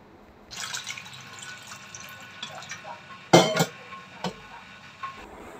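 Water splashes and trickles into a basin, with a few sharper splashes and clinks from handled items, close by and with no voices.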